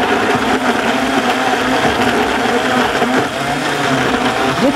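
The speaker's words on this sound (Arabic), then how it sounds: "واضرب ده كله في الخلاط كده" An electric blender whirs loudly and steadily at close range, its motor grinding continuously with slight wavering in pitch.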